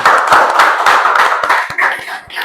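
Audience clapping at a student discussion event, a steady burst of many hands at close range with individual claps audible, continuing throughout without talk.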